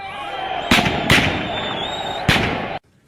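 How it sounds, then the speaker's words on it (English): Three sharp gunshots crack out at irregular intervals in city streets in Zimbabwe, over a steady crowd roar and hum, then everything cuts to near silence. "the streets echoed to the sound of gunfire"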